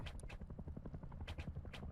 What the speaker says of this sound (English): This is the bad chopper and he's really close